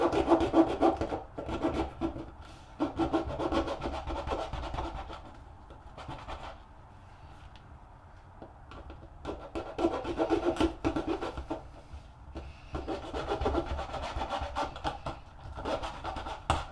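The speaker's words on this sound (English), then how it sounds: "Razor saw." A razor saw cuts a plastic model kit part for a 1/1000 Moebius USS Kelvin, giving quiet rasping back-and-forth strokes in bursts separated by short pauses, close and soft.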